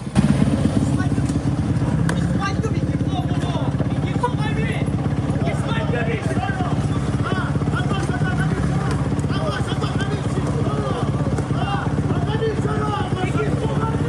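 A motorcycle arrives on a street in Sicily, its engine a steady drone throughout, beneath continuous overlapping voices and general street bustle.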